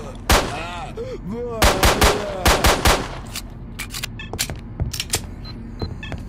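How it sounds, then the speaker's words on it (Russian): Machine-gun fire in STALKER: Lost Alpha rattles out in loud, close bursts of rapid shots, then trails into scattered, fainter single cracks. "Самое неприятное, что была уже стрельба пулеметная"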